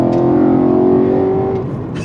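BMW E92 M3 engine revving between 3,000 and 4,000 RPM, a loud, close, smooth climbing tone with strong harmonics held for over a second before easing off, heard alone.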